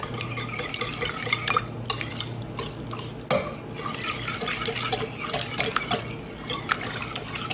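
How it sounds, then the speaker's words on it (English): A spoon churns a thick tamale pie mixture of Ortega chilies and shredded cheese in a bowl, steady wet scraping and clinking stirs running continuously up close, with no voices. "Okay, we're going to get this mixed up."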